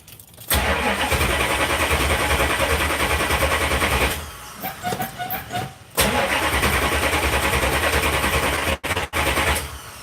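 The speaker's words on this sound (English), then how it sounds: "Been a little bit since I've cranked the Charger up, so I don't know how fast this one's going to crank up." Dodge Charger car engine cranking in a backyard, catching and revving loudly, dipping briefly to uneven sputters, then roaring again with a couple of short cut-outs near the end, close and with no talk.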